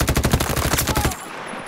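A rapid automatic-weapon burst from a video game, roughly a dozen sharp, evenly spaced shots fired close and loud, then stopping abruptly and leaving a faint tail.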